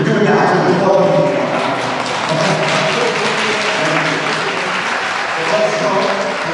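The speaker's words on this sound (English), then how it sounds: "audience, now is the time to applaud everybody after the closing statements" Debate audience at a mayoral debate applauding after closing statements, a dense, steady wash of clapping from a large crowd with voices mixed in throughout.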